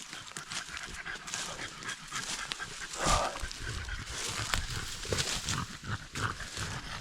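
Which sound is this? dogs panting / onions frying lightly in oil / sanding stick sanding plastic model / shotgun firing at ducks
dogs panting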